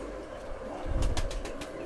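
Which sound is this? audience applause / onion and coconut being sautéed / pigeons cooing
pigeons cooing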